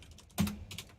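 Typing on a computer keyboard, heard as a short burst of close, quiet key clicks with one louder thump partway through.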